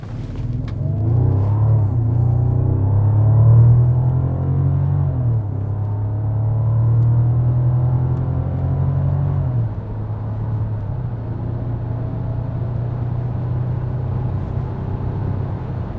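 A Bentley engine hums low and smooth from inside the car, rising briefly as it pulls away, then settling into a steady driving rumble.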